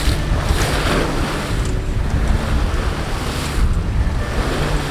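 Ocean waves and strong wind wash against a sailboat at sea in the Indian Ocean, a loud, continuous roar of surf and spray with gusty wind noise on the microphone and no voices.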